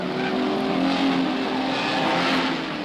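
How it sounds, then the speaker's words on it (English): Touring race cars flashing down Conrod Straight at the Bathurst race, a sustained roaring engine whine from a fast pass at high speed, steady and fairly loud with no voices over it. "Flashing down Conrad for the first time, Moffat is trailed by Seaton and Bond."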